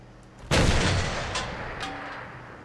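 A single heavy tank cannon shot in World of Tanks, a sudden loud boom followed by a long rumbling decay.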